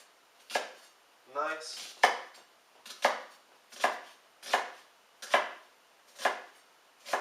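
A knife chops an onion on a cutting board in a steady series of about eight crisp, evenly spaced thuds, close and clear, with a brief short word spoken between early chops.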